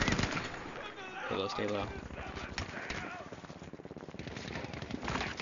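Gunfire rattles through a Battlefield V match, bursts of shots crackling steadily under a person talking over the action.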